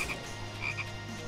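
Frogs croaking in a swampy area of the Enchanting Swordplay Reverie video game, a short burst of several close, clear croaks over a low steady background.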